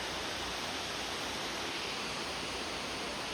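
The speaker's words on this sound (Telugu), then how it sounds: "ఈ వాటర్ ఫాల్ ఇప్పుడు మన దిక్కుంటూ వచ్చింది ఈ వాటర్ ఫాల్ చూసారు కదా" Waterfall in a Vizag residential colony, a dense, steady rush of falling water filling the whole short stretch without pause.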